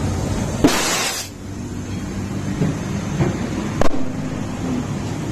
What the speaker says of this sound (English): that noise usually comes when the lips of the rim and the tire meet really fast